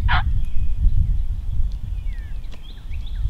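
A wild turkey sounds off with one sharp, loud gobble at the start on Iowa public land during spring hunting, followed by distant bird chirps over low rumbling wind.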